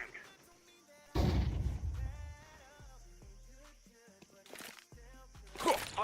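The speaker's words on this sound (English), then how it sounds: "I'm throwing the flashbang." A flashbang grenade bursts in Counter-Strike 2, a sharp loud blast at about one second followed by a ringing tail, with further bright pops and game noises later in the round.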